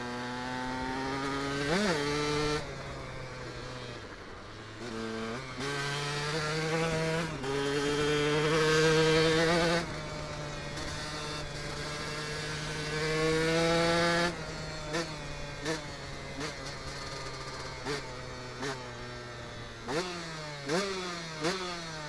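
A 125cc KTM EXC enduro dirt bike engine revs repeatedly, buzzing high and raspy like a chainsaw, rising and falling in pitch with short pauses between throttle blips.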